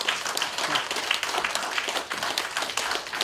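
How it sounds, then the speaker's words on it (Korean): An audience at a Korean cultural talk about travel claps continuously, with the dense, fairly loud applause filling the room and no speech over it. "이제 박수 치는 걸 그만해요 이 말이죠"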